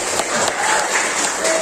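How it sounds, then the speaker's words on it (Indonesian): Classmates in a school classroom clap for a student, giving a short burst of dense, steady, close applause from a small group. "Mari kita kasih aplaus buat Mas Fajar"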